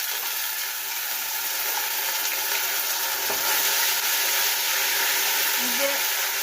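Cumin and bay leaf tempering frying in hot oil with ginger paste added, a steady broadband sizzle with hissing throughout, a brief stir or clink midway, no talk.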